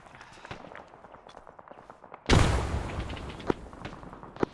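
A frag grenade going off in a video game: quiet shuffling and faint footsteps, then a single loud, sudden blast whose rumble decays over a couple of seconds, followed by a few sharp clicks.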